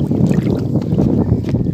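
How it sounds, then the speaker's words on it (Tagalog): Strong wind buffeting the microphone at a fishpond, a steady, loud, rough rumble with no talk, while a small boat is out on the water. "malakas lang po yung hangin"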